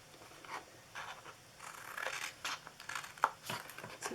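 Scissors cut through paper for a peppermint Christmas gift box, a series of soft, close snips and crisp rustles at an uneven pace with one sharper click near the end.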